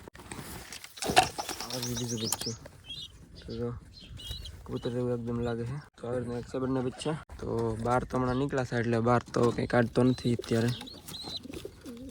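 A young pigeon chick gives repeated wavering cooing calls in short bursts, close and clear, mixed with someone talking over it.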